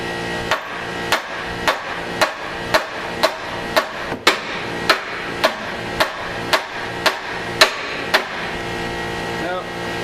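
Steady metallic hammer strikes, about one every half second, ring out close and loud over a constant hum of background noise, hammering out a greasy front suspension part.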